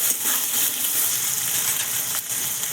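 Potatoes sizzle in a pan with green chillies for a vegetarian Bengali cabbage dish, giving a steady, bright hiss with small crackles and pops and no talk.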